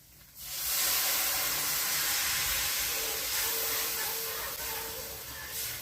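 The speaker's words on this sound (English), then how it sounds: "Now what we're going to do is go in with the wine. And we're going to deglaze." Wine poured into a hot pan for a clam linguine sauce bursts into a loud, steady hissing sizzle. The sizzle holds strong for several seconds and then eases off slightly.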